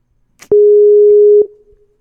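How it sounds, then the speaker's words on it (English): A telephone ringing tone on a phone call sounds as a single loud, steady electronic beep lasting about a second, heard alone with near silence before and after. "Ringing."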